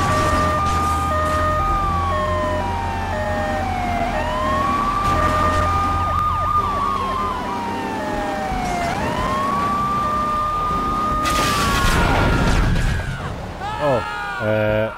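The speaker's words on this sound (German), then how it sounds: "Das ist der Krankenwagen da vorne." A wailing emergency siren in the video game GTA III, where an ambulance is being chased, sweeps up and down in slow, loud cycles over constant engine noise and game sounds, with someone talking throughout.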